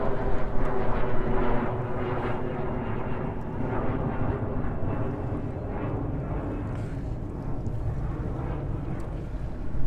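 A four-engine Boeing 747-400 on approach to JFK airport gives a steady, loud, broadband jet roar with wind buffeting on the microphone, continuous throughout.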